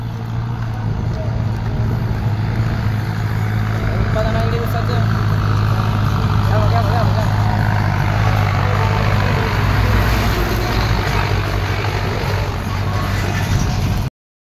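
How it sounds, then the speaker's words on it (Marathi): Sugarcane-laden trucks and carts roll along a rural road near a Ram temple in Maharashtra, a steady loud rumble of heavy engines and idling traffic across the whole stretch, with low chatter mixed in. "बघा ऊसाच्या गाड्या."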